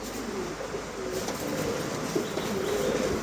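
Pomeranian pouter pigeons cooing on a farm, soft low warbling coos repeating over a steady hum of background noise, close by.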